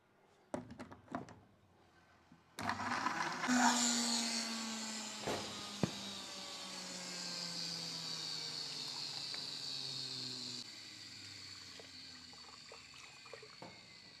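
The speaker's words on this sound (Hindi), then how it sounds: "पानी डालें" Water poured into a pan while making burgers, a close splashing pour that settles into a steady trickle after a few knocks and thunks, with a faint bubbling tail.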